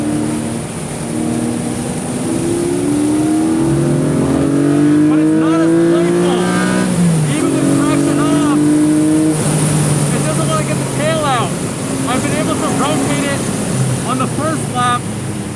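A 2022 Porsche 718 Boxster GTS 4.0 flat-six is pushed hard on a race track, its engine revving up and down through repeated rising shifts for about fifteen seconds, loud and close with a driver talking over it.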